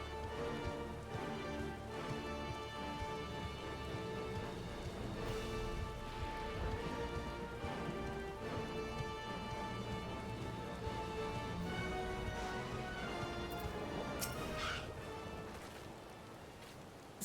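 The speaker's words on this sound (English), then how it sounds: "It's raining here." Rain falls steadily in a video game scene, a soft, even patter that stays constant throughout with faint background tones.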